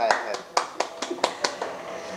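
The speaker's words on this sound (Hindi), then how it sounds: "मैं सबसे पहले इसके लिए ताली बजाना चाहूँगा" Hand clapping, about nine quick, sharp claps in a slightly uneven rhythm, close and fairly loud in a quiet room.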